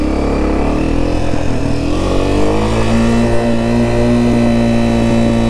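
A Honda CRF230F dirt bike engine revving up in first gear, loud and close, its pitch climbing steadily then holding a strong buzzing tone as the bike gets moving.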